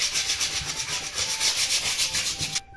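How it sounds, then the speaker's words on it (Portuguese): Sandpaper rubs rhythmically over a craft cup in quick, even back-and-forth strokes, close and steady, before stopping abruptly. "Vamos lixar mais uma vez,"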